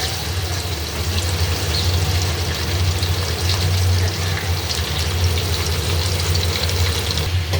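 Onion, ginger and garlic paste frying in oil for a chicken roast and biryani dish, a loud continuous sizzle with scraping stirring underneath, no voices.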